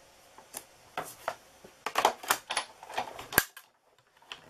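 Die cutting machine cutting out a paper box: a series of close crunching, clicking mechanical sounds in irregular bursts, with a sharp snap near the end, no talking.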